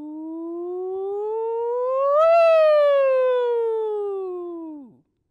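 A single voice imitates a siren, a smooth tone gliding up then down in pitch over about five seconds before dropping off.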